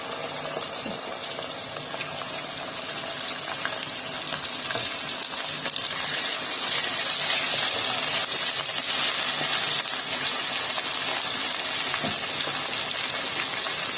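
Mutton pieces sizzle as they go into a pan of nearly browned frying onions for a masala creamy mutton curry, a steady dense hiss that swells slightly partway through, with stirring scrapes and no talk.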